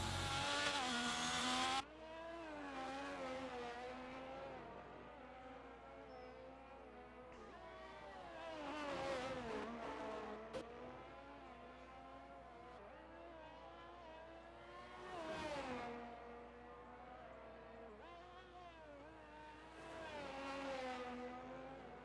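Race car engine in a racing league video game at the Brazil circuit, a steady high-pitched whine that rises and dips as the throttle is worked, with a few swelling revs over a continuous drone.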